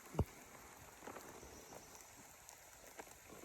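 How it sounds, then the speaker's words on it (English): Light rain patters softly and steadily on nearby surfaces, with an occasional sharper drip or tap standing out from the hush. "It's raining out."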